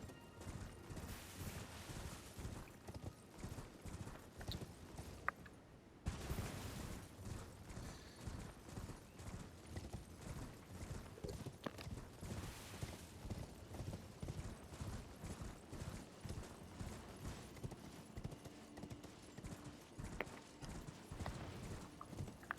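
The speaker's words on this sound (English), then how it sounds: "A lot of horse riding." Steady clip-clop of horse hooves at a gallop in the Elden Ring video game, a rapid continuous rhythm with a brief break midway, mixed with game ambience.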